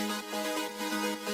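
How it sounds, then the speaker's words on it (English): Synth chords chopped by an arpeggiator into rapid 16th-note pulses, a quiet, dense, bright chord pattern stuttering evenly throughout the short passage. "but it actually has this arpeggiator turned on and chopping it up to 16th notes."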